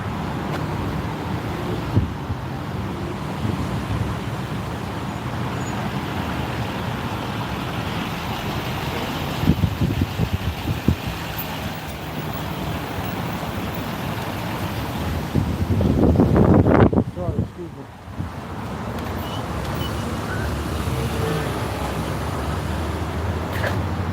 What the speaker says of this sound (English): Yeah, it's windy tonight.